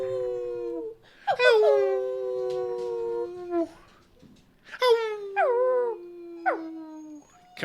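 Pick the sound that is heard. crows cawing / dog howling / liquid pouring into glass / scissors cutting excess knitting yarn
dog howling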